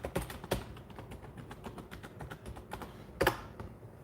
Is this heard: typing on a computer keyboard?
yes